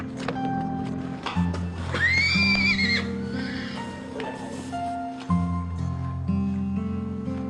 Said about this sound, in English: The Hada's mare and foal arrive.